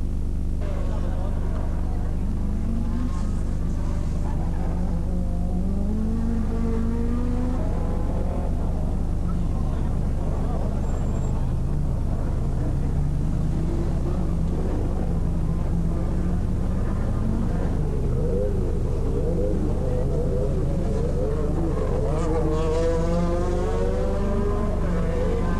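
Rally car engines rumble and climb in pitch as cars set off on the zoning stage of the 1986 Ypres 24h Rally, a steady mechanical drone heard at a distance with no voices.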